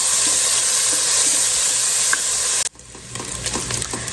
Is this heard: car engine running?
no